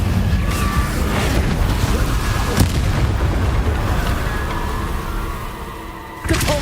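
Spell-casting effects in the Hogwarts Legacy video game, fire and blast spells among them, roar as a loud, dense, continuous rumble of booms and bursts with sharp hits scattered throughout.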